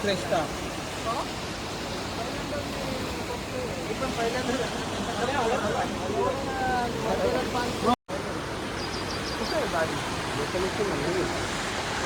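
Floodwater of the swollen Bharangi river rushes in a steady, broadband roar that fills the whole stretch, with faint voices and scattered sounds mixed in and a brief dropout near the end.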